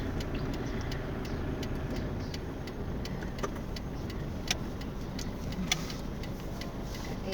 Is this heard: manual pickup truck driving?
yes